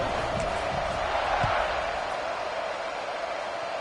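A football stadium crowd at a college game between UF and MSU roars in a broad, sustained swell of cheering heard from afar, with a commentator's voice faintly underneath.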